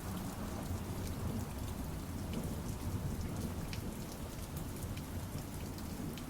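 Steady rain pours continuously with a dense hiss of drops and low rumbling of distant thunder underneath, an even, immersive soundscape with no voices.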